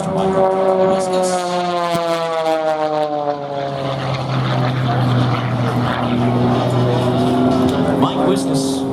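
Aerobatic airplane flown by Michael Wiskus at the 2019 New York Airshow, its engine drone rising and falling in pitch as it speeds in, loud and continuous, with a harmonic whine sliding downward over about nine seconds.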